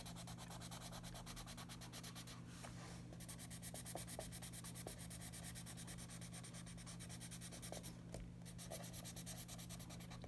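Pencil scratches softly against paper while coloring, a faint continuous rubbing with small irregular strokes over a steady low hum, no voices.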